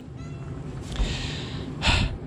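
A cat in a workshop meows twice, about a second apart, each call short and fairly close over a low steady background hum.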